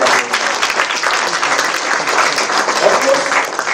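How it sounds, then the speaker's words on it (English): A conference audience gives a hearty round of applause at a valedictory session, a continuous, full clapping that holds steady throughout with a few voices mixed in. "a big round of applause"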